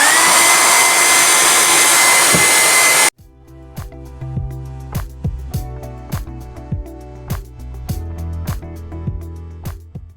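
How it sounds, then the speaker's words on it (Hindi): A hair dryer blows steadily and loudly over a washed sofa for about three seconds, then cuts off abruptly, leaving a quieter passage of rhythmic clicks and tones. "बस थोड़ा सा ड्रायर और करूंगी तो ये पूरा ड्राई हो जाएगा"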